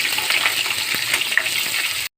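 Food frying in a pan, a steady dense sizzle with faint stirring scrapes, close and continuous until it cuts off abruptly near the end.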